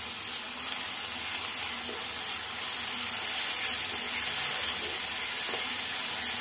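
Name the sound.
onions frying with ginger-garlic paste in a pan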